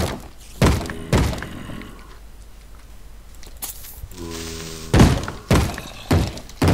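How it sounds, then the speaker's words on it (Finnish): Heavy thuds of Minecraft zombies banging on a wooden door come in irregular single hits and pairs, with a grinding game noise in between, in a multiplayer video game session. "zombit hakkaa tota ovia"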